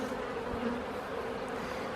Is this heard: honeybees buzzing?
yes